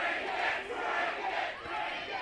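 A wrestling crowd roars and chants in a dense, continuous wall of cheering, loud and surging slightly, with no clear individual voices.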